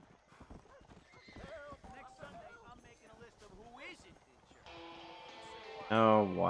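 Hooves clip-clop beneath people talking in Red Dead Redemption, followed by a loud horse whinny near the end over a low background hum.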